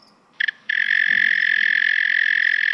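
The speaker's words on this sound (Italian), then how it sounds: "Il grillo talpa, un altro grillo molto che ho sempre voluto ascoltare" A continuous, loud buzzing trill of a mole cricket starts after two brief chirps and drones on without a break.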